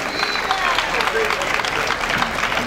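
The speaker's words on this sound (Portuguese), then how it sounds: "Vamos aplaudir Mirene Alves, com a sua simpatia" An audience at an evening seresta honoring Rio's 450 years applauds a singer, a dense, steady wash of clapping heard at a moderate distance throughout, with a voice talking over it.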